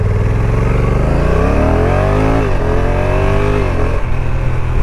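A Honda NC750X or NT1100 DCT motorcycle accelerates with a loud, close engine note whose pitch climbs steadily, dips with a gear change, then climbs again before easing off, under constant wind rush and no talk.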